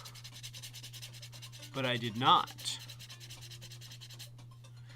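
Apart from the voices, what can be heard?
sanding sculpted clay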